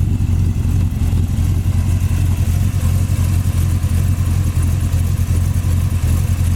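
The big block engine of a 1968 Corvette roadster runs at a steady idle, a loud, deep, even rumble with a slight pulsing throb and no talk over it.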